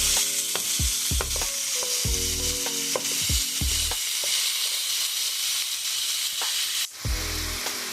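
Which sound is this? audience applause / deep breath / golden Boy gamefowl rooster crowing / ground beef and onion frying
ground beef and onion frying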